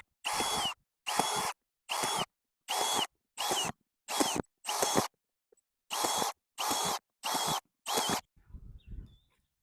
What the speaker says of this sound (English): we're just gonna start drilling holes in this.